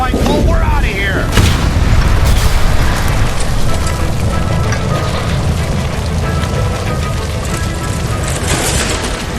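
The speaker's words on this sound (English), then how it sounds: "Shoot the gas line, Cole, we're out of here!" A gas line explosion in the video game L.A. Noire, a loud boom followed by a sustained crackling, rain-like rush of fire and debris that stays dense throughout.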